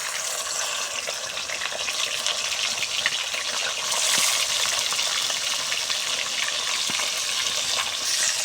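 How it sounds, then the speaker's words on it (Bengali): Fish pieces fry in hot oil, a dense, continuous close-up sizzle with bubbling crackle that swells slightly partway through, occasional soft clicks and no talk. "আমি এবার মাছগুলো ভেজে নিচ্ছি।"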